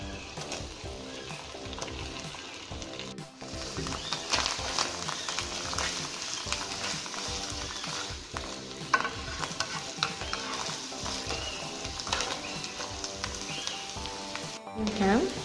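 Garlic and mushrooms sautéing in a pan for a Filipino-style carbonara, a steady close sizzle and frying hiss with scraping stirs throughout, loud and continuous with no voices.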